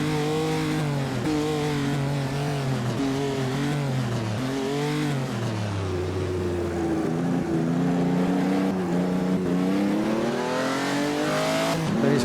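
A race car engine in Assetto Corsa, on a 1949 Noris-Ring Grand Prix circuit, drones steadily and close, its pitch rising and falling through gear changes and a brief dip mid-run.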